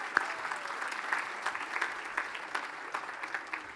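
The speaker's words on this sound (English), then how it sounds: "So one more big round of applause for Toby and Detective Murphy." A crowd at a city council meeting, the 2024 State of the City event, gives a round of applause: steady, moderately loud clapping with a few sharper claps standing out, all through the moment.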